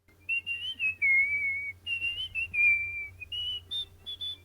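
Porky Pig whistles a jaunty tune in the 1936 Looney Tunes cartoon Fish Tales, clear bright phrases of short and held notes, close and alone over faint background hum.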